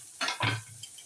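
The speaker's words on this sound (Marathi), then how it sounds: "आपण घालूया कांदा आणि ठेचलेला लसूण." Chopped onion and crushed garlic drop into hot tempering oil with mustard seeds, cumin and asafoetida, giving two quick, faint bursts of sizzle and stirring close by.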